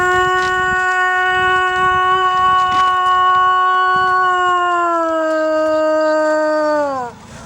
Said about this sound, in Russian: Этот вой называется «Вожак требует подчинения».